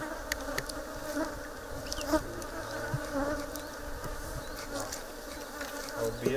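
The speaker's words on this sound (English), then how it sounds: "So you put wax inside the beehive, the bees will be attracted." A steady, dense hum of many bees buzzing close around an opened beehive during honey harvesting in Kenya, with no voices over it.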